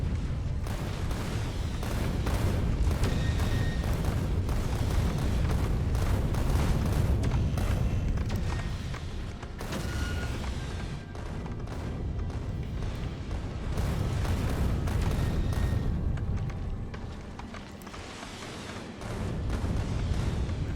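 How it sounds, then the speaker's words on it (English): Heavy, continuous rumbling booms from nuclear cannon shells in the factory-building game Factorio, loud and dense with overlapping blasts and a brief lull midway. "Our nuclear cannons, our nuclear ammo has kinda saved us."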